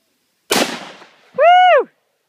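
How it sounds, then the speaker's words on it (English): A single sharp rifle shot cracks loud and near during target practice at a bottle, decaying quickly, followed by a short vocal exclamation. "I think I shot the bottle."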